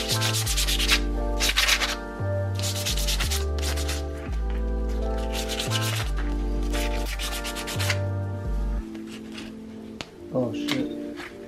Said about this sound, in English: Maybe sand the edges because it's kind of rough.